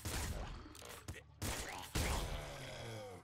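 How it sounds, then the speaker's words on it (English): Explosions in the video game Nuclear Throne Ultra Mod: loud, dense roaring bursts of blast noise that fill the moment, broken by a couple of brief dips before surging again. "I didn't realise that explosion would kill you in a single hit"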